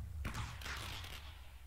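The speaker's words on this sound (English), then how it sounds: "Delayed fireworks. Even better." Delayed fireworks in the video game Minecraft go off as a muffled thump followed by a second crackling burst, loud against a low background rumble.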